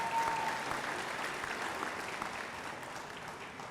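An audience at a university graduation ceremony claps steadily in a large hall, a moderate wash of applause that slowly fades over a few seconds.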